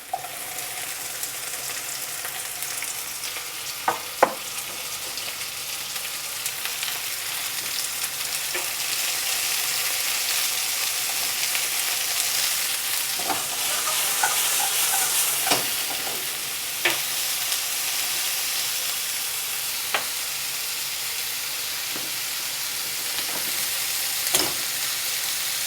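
Peppers stir-frying in a hot pan for an Asian-style pork stir fry give a steady, bright sizzle, broken by repeated sharp clatters and scrapes of stirring throughout.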